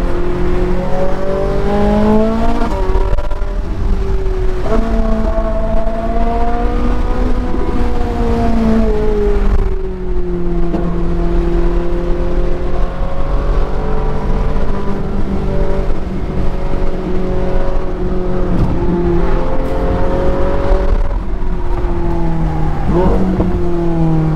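A 2011 Ferrari 458's engine roars steadily from inside the cabin, its pitch rising and falling through gear changes over a constant loud drone.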